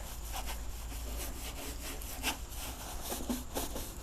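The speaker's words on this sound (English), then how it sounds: "right now we're just gonna scrub this whole thing, see how it works" Brush scrubbing a boat surface with cleaner, a steady rough back-and-forth scraping that keeps going without a break at moderate, close range.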